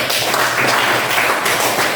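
Classroom of students clapping for a classmate, a loud, continuous burst of many small hands applauding in a reverberant room.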